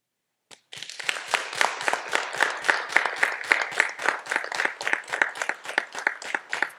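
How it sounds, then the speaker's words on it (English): An audience at a fire department trainee class graduation ceremony bursts into sustained applause after a single sharp clap, many hands clapping steadily and fairly loudly for several seconds with no talking. "let's applaud them"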